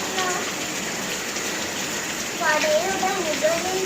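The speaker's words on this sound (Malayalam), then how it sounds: "മഴ മഴ മഴ മഴ പെയ്യുന്നു" Rain falls on a house roof in a constant, close wash of patter, and a voice sings a children's rain song over it near the end.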